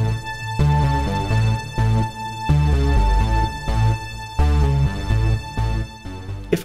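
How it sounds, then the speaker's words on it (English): A classic synth riff plays in A Mixolydian with its lowered seventh, a bright repeating keyboard pattern over a pulsing bass, loud and steady with no voices. "This is established by the song's classic synth riff, which features that Mixolydian lowered 7th."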